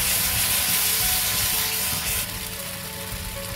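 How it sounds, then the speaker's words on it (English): Mushroom ghee roast masala paste sizzles in oil, a dense, steady close hiss with faint bubbling that continues evenly throughout, easing slightly toward the end. "let's cook our paste until the raw smell is gone and until the oil separates"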